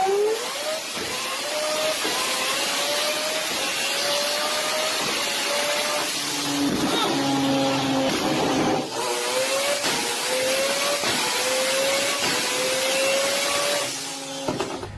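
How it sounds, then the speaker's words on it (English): A Mazda RX-7 four-rotor turbo race engine screams steadily nearby, its pitch climbing through repeated gear changes, with brief dips and backfire crackles at each shift. "that backfire loud bang you hear is basically the spark being cut and coming back on"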